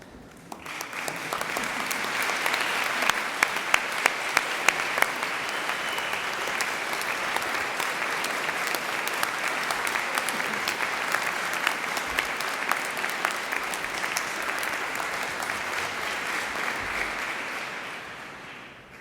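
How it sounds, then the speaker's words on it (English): A long, sustained round of applause from a large crowd at a university degree ceremony in Exeter, with dense clapping and a few sharper nearby claps, swelling quickly and fading out at the close. "give them a big round of applause"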